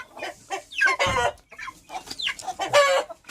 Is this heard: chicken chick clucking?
yes